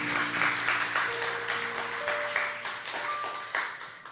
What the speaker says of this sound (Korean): 힘껏 박수하겠습니다